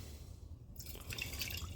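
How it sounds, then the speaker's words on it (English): Distilled water is poured into a container of gold and silver refining solution, a soft dripping and trickling sound starting after a quiet moment and continuing steadily, close and faint with no talking. "Add the last of my distilled water."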